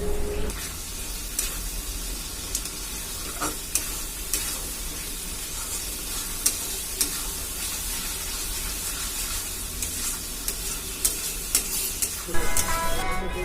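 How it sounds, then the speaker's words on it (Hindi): Salt, turmeric and tomato paste frying in a pan for chicken biryani, giving a continuous loud sizzle with scattered spatula clicks and scrapes, and a brief burst of stirring near the end. "थोड़ा सा नमक, हल्दी पाउडर और टोमेटो पेस्ट वो सब डाल के अच्छे से पकाएंगे 5 से 7 मिनट तक"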